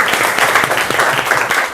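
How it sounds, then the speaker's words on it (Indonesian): A classroom of students claps steadily for a classmate during an Indonesian teacher-training lesson, a dense, even patter of hands lasting the whole short stretch with faint voices mixed in. "tepuk tangan untuk Nata ya"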